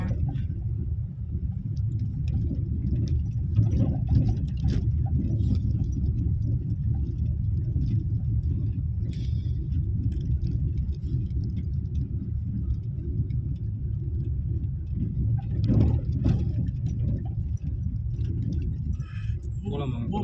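A car being driven produces a steady low road rumble and engine drone that runs unbroken throughout, with occasional voices over it.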